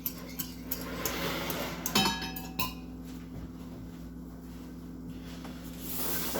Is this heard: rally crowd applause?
no